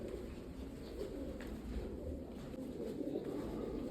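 Soft, low cooing of pigeons at Uparkot fort, Junagadh, a faint continuous murmur of bird calls heard from nearby in a quiet, dark space.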